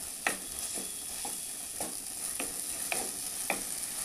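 Spice paste with coriander leaves fries in a pan for a katla fish kalia, a soft hiss under regular spatula scrapes that land about every half second, quiet and close, with no talking.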